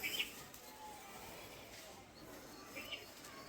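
Faint pigeon coos and soft bird calls from domestic pigeons kept at a house, a few brief calls at the start and near the end over a quiet, hissy background.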